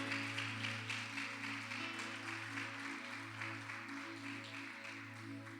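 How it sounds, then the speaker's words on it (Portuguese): Church conference audience applauding the Lord in steady, moderately distant clapping over sustained music, continuing throughout. "Você pode aplaudir ao Senhor?"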